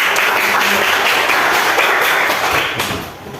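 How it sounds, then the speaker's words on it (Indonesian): Audience applause from a class of teachers-in-training at UIN Antasari Banjarmasin, a dense, steady wash of clapping hands that carries on for a few seconds and then thins and fades toward the end. "kita kasih aplaus dulu"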